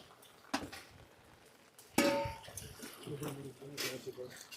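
Collected rainwater poured out into vessels, with close splashing and trickling and a few clinks of containers, heard under people talking.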